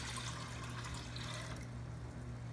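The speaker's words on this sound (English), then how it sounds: "put 6 cups of water in the pan to boil" Water poured into a cooking pan to start boiling for cheese grits, a steady continuous splashing and gushing fill that runs close and fairly loud for the whole stretch.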